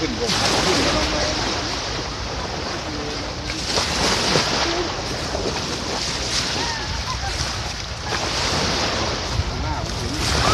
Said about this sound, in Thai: ทะเลกำลังพัดน้ำทะเลขึ้นบกพัดขึ้นกำลังแรง